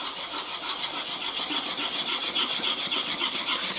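A wood carving gouge is rubbed in circles on a sharpening stone, giving a continuous close scraping hiss with no talk.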